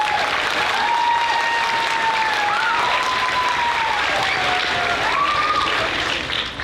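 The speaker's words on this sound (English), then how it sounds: "so a round of applause for them." A school band concert audience at Kirksey Middle School claps in a dense, sustained wash of applause that holds steady for several seconds, with a thin whistling tone gliding above it before it tapers off at the end.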